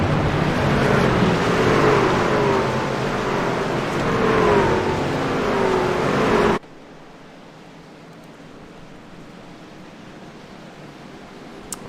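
Race cars at Daytona International Speedway rumbling under a pace car as they line up, a loud broad engine roar for about six seconds that cuts abruptly to quiet.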